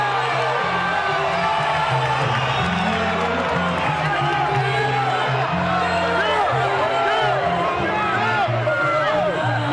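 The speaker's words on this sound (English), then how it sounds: "The crowd is going bonkers." A boxing arena crowd at a Floyd Mayweather vs. Oscar De La Hoya fight roars and cheers wildly, with whoops and scattered claps in a loud, sustained wall of noise beneath a commentator's voice.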